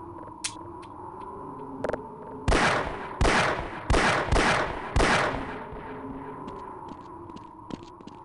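A handful of loud gunshots in Half-Life in the alien world of Xen, about five sharp blasts spaced roughly a second apart, close and punchy over a low ambient hum, with a couple of fainter clicks before them.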